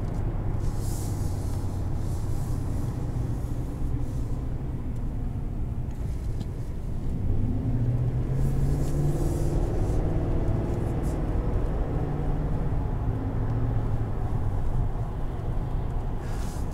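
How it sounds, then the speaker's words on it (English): Cabin of a 2020 Chevrolet Silverado 2500 heavy-duty pickup cruising on the highway, with a steady low road rumble and tire hum that rises and falls slightly, no voices. "Rides really, really well on the highway."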